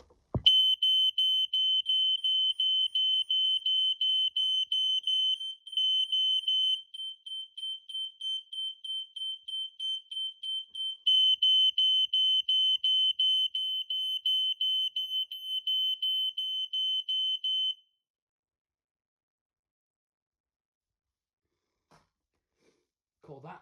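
An Ei 166RF smoke detector on a Radiolink base sounding its alarm: a piercing, close, high-pitched tone, continuous at first, then rapidly pulsed, then continuous again. It stops abruptly, leaving near silence.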